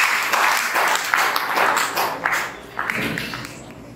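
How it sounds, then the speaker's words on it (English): Seminarians at a health seminar applaud in a steady wash of clapping that thins out toward the end, with some voices mixed in. "Shall we give him a round of applause?"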